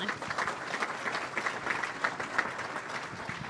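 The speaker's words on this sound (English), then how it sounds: "So give yourselves a round of applause for that." Audience applause at a business awards event, a room of people clapping steadily and fairly densely for a few seconds, moderately close and without talk.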